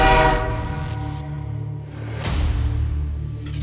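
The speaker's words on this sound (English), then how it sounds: "And once again, the train whistle blew." A train whistle blows loud and sustained, a rich, steady horn tone that swells again partway through, with no voices over it.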